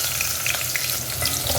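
Sliced onion frying in hot oil with cinnamon and cloves for Ambur mutton biryani, a loud, dense, continuous sizzle with light stirring clicks, close up and without speech.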